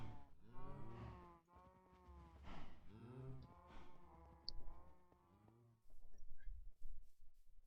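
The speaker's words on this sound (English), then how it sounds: "And over here I have the cows." Cattle lowing on a video game farm, several drawn-out moos overlapping in steady succession with a buzzing insect-like background hum, fairly close and moderately loud, no talking.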